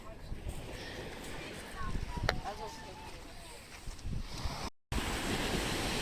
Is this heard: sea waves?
yes